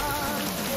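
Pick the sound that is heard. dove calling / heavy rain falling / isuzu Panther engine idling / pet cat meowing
heavy rain falling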